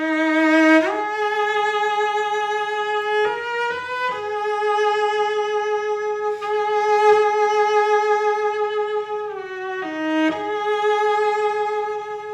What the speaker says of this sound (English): When the cello enters with a beautiful new theme